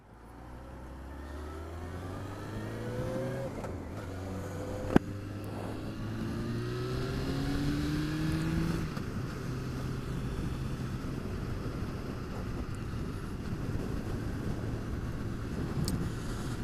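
Wind buffets a motorcycle at about 70 on a motorway, a dense steady roar with the engine's tone rising through the gears underneath, one sharp click early on, no voices.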